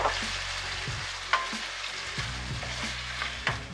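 Chicken with onion paste sizzles steadily in hot oil for a capsicum chicken masala, with loud, close frying punctuated by intermittent scrapes of stirring and no voices.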